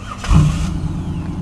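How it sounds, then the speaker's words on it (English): A 1997 Chevy Camaro engine fires up by remote start, a brief cranking burst followed by a steady low idle rumble, close by with no talking. "the car should start up all on its own"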